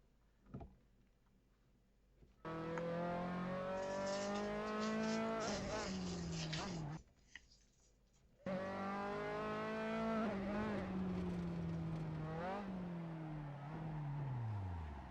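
A Formula 3 car in Assetto Corsa at Silverstone locks its brakes, tires squealing loudly in long sustained screeches over the engine, broken by a short gap and sliding down in pitch as the car slows.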